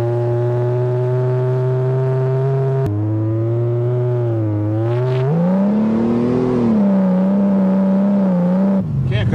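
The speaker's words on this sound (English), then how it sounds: "this car drives just like brand new." A 1982 Toyota Cressida drives on a rainy road, its engine note loud and close, droning steadily before rising and falling as it revs and shifts, with the tail sliding around.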